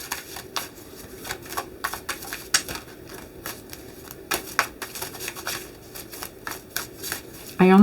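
Tarot and oracle cards being shuffled by hand, a run of crisp riffling slaps and taps in irregular bursts, close and clear, ending with a short burst of voice.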